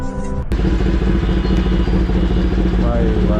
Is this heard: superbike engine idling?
yes